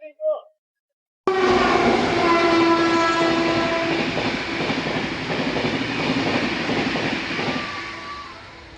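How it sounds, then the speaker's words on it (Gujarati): A passenger train pulls out of Ahmedabad station with a loud, close rumble of rolling wagons and a sustained horn tone, which gradually fades toward the end after a short silence at the start. "ટ્રેન ઉપડી ગઈ છે પાછી"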